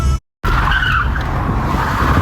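Tires screech as an old Volvo converted into a mini truck drifts. After a brief cutout, a loud, sustained squeal of rubber sliding over pavement is heard close by, with engine noise underneath.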